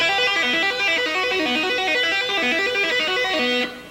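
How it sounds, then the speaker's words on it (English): A fast, continuous tapped electric guitar lick on the second string, notes cycling rapidly in a repeating rising and falling pattern, loud and sustained without pause. "So if I move that same lick to the second string, it would sound like this."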